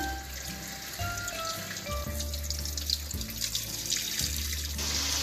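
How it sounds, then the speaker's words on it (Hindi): Raw chicken, about a kilogram, rinsed under a running kitchen tap, with a steady stream of water splashing into a sink and shifting as the pieces are moved, close and continuous with no talk. "यहाँ मेरी चिकन वॉश हो रही है।"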